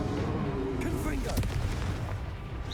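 A Confringo blasting spell detonates in the Hogwarts Legacy video game, a dense booming explosion with rumbling low end and crackling bursts, loud and continuous, with a voice speaking over it.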